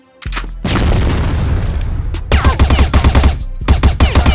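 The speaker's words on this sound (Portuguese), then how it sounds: "Granada!" A loud in-game boom from a grenade explosion, followed by rapid bursts of gunfire pulsing close and heavy in a competitive base-defence shooter match.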